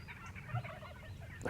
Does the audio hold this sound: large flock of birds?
yes